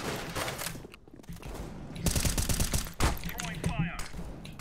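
Revolver gunshots in the PUBG video game crack out as several sharp reports with mechanical clicks between them, over a busy mix of game sounds.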